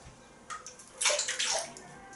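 Water flung out of a large Omega 49 boar-bristle shaving brush knot: a couple of quick wet splashing shakes and sloshes, close and fairly soft, lasting about two seconds.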